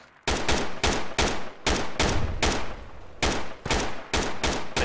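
Rapid, evenly spaced gunshots from the military shooter game Project Reality crack out about a dozen times in quick succession. The shots are loud and close, with no talking over them.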